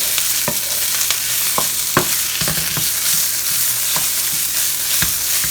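Italian sausage browns in a pan with olive oil, giving a loud, dense, continuous sizzle with frequent crackles and pops.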